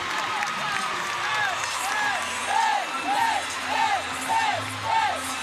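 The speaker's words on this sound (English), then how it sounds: "The crowd is yelling a 10, John." Crowd at a college women's gymnastics meet yelling and cheering after a landing, with rising whoops and shouts in repeated swells over steady arena murmur; no talk over it.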